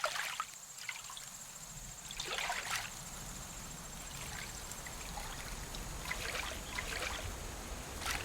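Water trickling in the video game Haven and Hearth, a soft continuous babble with splashy bursts, faint and steady, with a thin high tone running underneath.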